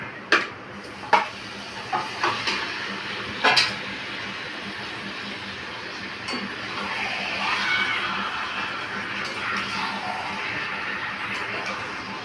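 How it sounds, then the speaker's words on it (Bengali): Marinated chicken pieces go into a hot pan for kosha, with a few sharp clanks of utensil on metal, then a steady rising sizzle and stirring, close up, with a voice briefly in the background. "এবার চিকেনগুলো দিয়ে দিচ্ছি।"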